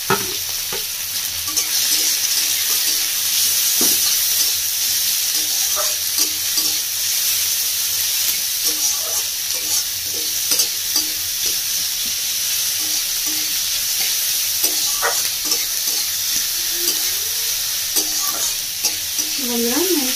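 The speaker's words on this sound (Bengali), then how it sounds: "তেলের মধ্যে দিয়ে দেবো একটা কাঁচা লঙ্কা কুচি, আর দিয়ে দিচ্ছি ক্যাপসিকাম কুচি, আর দিয়েছি টমেটো কুচি" Chopped green chilli, capsicum and tomato frying in hot oil give a steady, loud sizzle that runs throughout, broken by scraping and clinking as a utensil stirs the pan.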